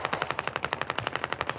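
Rapid automatic gunfire in the military shooter Squad, a tight burst of about a dozen evenly spaced loud shots fired close by, with no voices.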